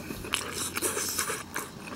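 Biting and chewing on Emart Peacock sweet dakgangjeong, a frozen sauced Korean fried chicken: close, soft chewing with a few crunchy bites over about two seconds.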